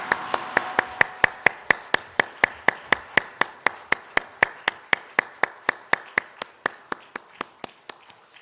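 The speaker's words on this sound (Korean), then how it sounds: "하나님께 영광의 박수 올려드리겠습니다" A church congregation claps together in a steady, rhythmic beat of about three or four crisp claps a second. The clapping is close and clear, with no talk, and eases off slightly toward the end.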